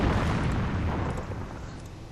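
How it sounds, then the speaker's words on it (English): Video game explosions from a called-in strafing run, bombing run and artillery barrage, a dense continuous rumble of booms and blasts, loud and close with no gaps. "Strafing run comes in. Bombing run. The registered artillery."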